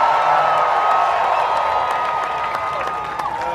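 A rally crowd for Trump in Iowa cheering and applauding, a dense wash of clapping and shouts that fades slightly toward the end.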